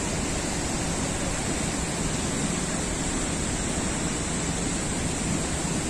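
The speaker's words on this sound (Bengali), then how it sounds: "আর জলটা এত স্পিডে পড়ছে ওপর থেকে পড়ে" The Athirapally waterfall in Kerala pours down in a steady, dense roar of crashing water that holds unbroken throughout, with no voices.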